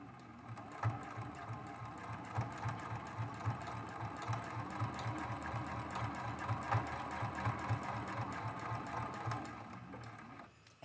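A sewing machine doing free motion quilting stitches at an unhurried pace, its rapid rhythmic thumping steady and fairly quiet up close for about ten seconds before stopping, with no voices.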